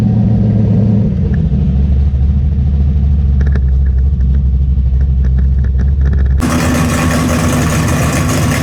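A turbocharged drag car engine sits on the two-step with a loud, steady, deep rumble close by, then shifts abruptly to a harsher, brighter roar toward the end.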